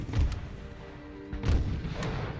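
Cannon fire in the Napoleonic-era strategy game Imperial Splendour, playing Prussia: two or three booming artillery shots a second or so apart, moderately distant, over a low battlefield rumble.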